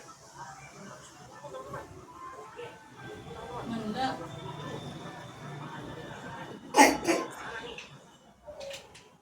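A child coughs in a brief, sharp burst near the end, amid indoor talk and household clatter.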